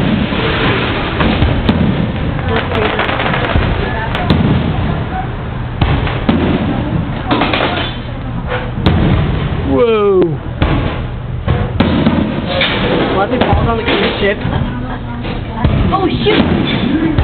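Fireworks show bursting over San Diego Bay near a barge and a large cruise ship, with continuous booms and crackling thuds throughout, a whistling rocket rising midway, and people chatting nearby over the blasts.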